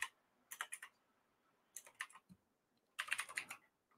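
Keys clack on a computer keyboard in three short bursts of rapid, crisp typing, quiet and close, with brief pauses between the bursts.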